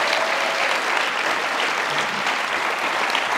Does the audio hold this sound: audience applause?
yes